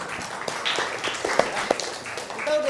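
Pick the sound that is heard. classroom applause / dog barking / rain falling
classroom applause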